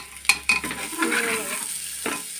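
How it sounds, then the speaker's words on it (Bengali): Dalia and moong dal with salt and turmeric being stirred and fried in a pan, close and loud scraping strokes of a spatula over a continuous crackling sizzle, with no talk. "ভাজা ভাজা করে নেব"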